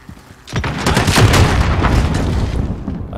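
An RPG explosion in Modern Warfare bursts in with a heavy boom and rolls on as a loud, sustained rumble with crackling debris, close and dominant.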